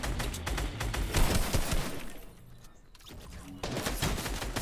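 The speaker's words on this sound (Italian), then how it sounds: "c'è uno che mi ha sparato però" Rapid gunfire from the video game Fortnite crackles in dense bursts, loud and close, easing briefly in the middle before another volley resumes.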